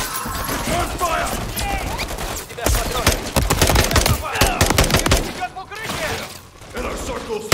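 Sustained automatic gunfire from the 'No Russian' mission in Modern Warfare III, with dense rapid bursts and heavy thuds, loud and near, and shouted voices mixed in.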